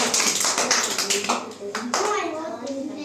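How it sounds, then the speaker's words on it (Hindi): Children in a school lesson clap their hands loudly, a quick run of sharp, close claps mixed in with young voices talking and calling out. "ताली बजाई।"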